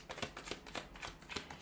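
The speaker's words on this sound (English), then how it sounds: "So we'll give the cards a shuffle" Tarot cards being shuffled by hand, a quick run of soft riffling flutters repeating about every quarter second, close and quiet, with no talking.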